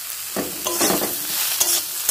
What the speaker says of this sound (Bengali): এখন দেখো তরকারিটাকে আমি নেড়ে চেড়ে রান্না করে নিয়েছি